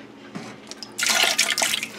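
White vinegar is poured into the water of a canning pot. It starts as a few faint drips and then becomes a louder, bright splashing pour that continues close by for about a second.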